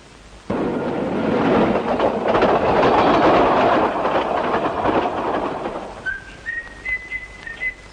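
A train rumbles past loud and close for most of the stretch, its dense roar swelling in after a quiet start, then thinning out as a few high whistle-like tones sound near the end.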